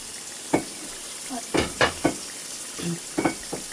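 Spice paste for a fish curry frying in oil, a faint steady sizzle under a handful of sharp spatula scrapes and clinks against the pan.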